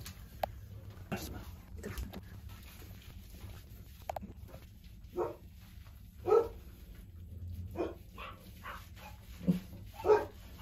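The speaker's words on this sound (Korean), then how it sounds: "짖지 말고" Dog in a grooming and bath session barking in short sharp bursts, with soft whimpers between them, heard fairly close in a quiet indoor room with a low background hum.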